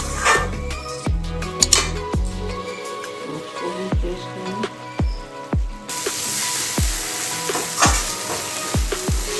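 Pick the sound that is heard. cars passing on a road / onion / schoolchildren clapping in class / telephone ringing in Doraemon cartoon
onion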